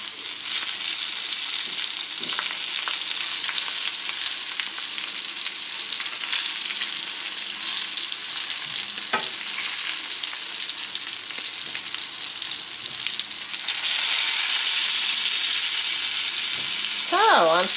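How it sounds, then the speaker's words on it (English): Peppers fry in avocado oil in a pan on a home stove, giving a steady, close sizzle and spatter that swells louder near the end, with a few stirring knocks and a brief voice-like sound at the close. "it does splatter, so I'm definitely going to have to wash down my stove when I'm done"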